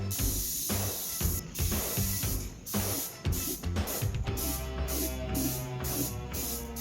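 Spray paint laying a base coat onto a 3D printed Raphael head from the 1990s TMNT movie, close, loud hissing bursts from the can in repeated short pulses with brief gaps, no speech.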